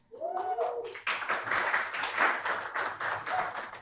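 Audience applause at a youth digital activism forum, a dense steady patter of clapping from a crowd that starts just after a brief voice and holds for several seconds.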